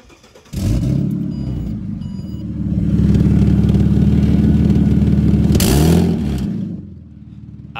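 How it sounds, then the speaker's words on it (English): A loud car engine revs hard and holds a rough, rattly roar, then drops back to a ragged idle. The blown exhaust makes it sound harsh and blatty. "fix this damn exhaust"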